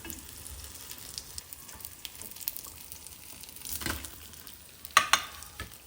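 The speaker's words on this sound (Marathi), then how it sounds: "तर अशा सगळ्या आपण आता तळून घेणार" Ridge gourd bhaji fritters frying in oil, a soft, steady bubbling sizzle with a few brief louder crackles and metallic clinks near the end.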